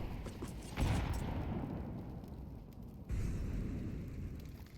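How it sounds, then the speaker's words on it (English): A grenade blast in Counter-Strike 2 during a competitive match, a loud boom followed by a second burst a couple of seconds later, over a busy background of game noise. "Nade will sink onto his head."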